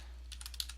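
Quick burst of keystrokes on a computer keyboard, a handful of soft, close clicks in fast irregular rhythm over a steady low hum.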